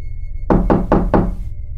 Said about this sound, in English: I realized the knocking was not at my front door, but rather at my bedroom door